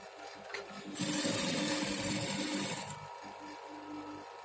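A sewing machine stitching fabric blocks together runs in a steady whirring burst of about two seconds, starting and stopping abruptly, with quiet room sound before and after.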